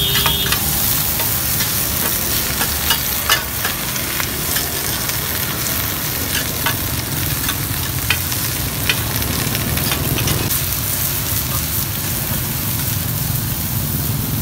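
Rice-flour cake cubes fry on a hot griddle at a street food cart near a market in Saigon, a dense, steady sizzle with scraping stirs and occasional sharp clinks, close and loud throughout.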